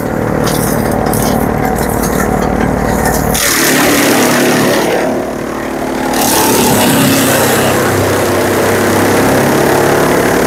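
A small tractor-driven fodder chaff cutter for chopping all kinds of kadaba runs loud and steady close by, its engine droning continuously with a brief dip in the middle.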